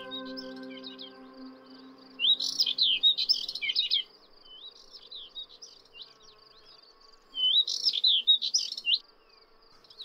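High, scratchy songs of subalpine warblers and Thekla larks in the Mediterranean come in two bursts, quick warbling trills against a quiet background with a faint low hum early on.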